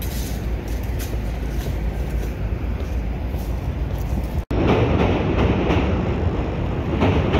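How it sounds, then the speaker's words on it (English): A loud, continuous rumble of a passing elevated CTA commuter train in Chicago, heard from the Riverwalk, with a brief cut midway and then steady rattling and roar. "If you're lucky, you can get an excellent view of the CTA train from here."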